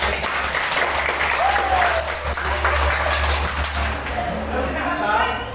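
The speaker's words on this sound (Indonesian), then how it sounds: "Sebentar, tepuk tangan." Students applauding in a classroom economics lesson, a sustained burst of many hands clapping with a voice speaking briefly over the clapping.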